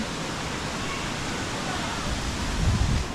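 Steady broadband rush of the Sarika waterfall in Nakhon Nayok, a continuous water roar close by with a slight swell near the end and no talk.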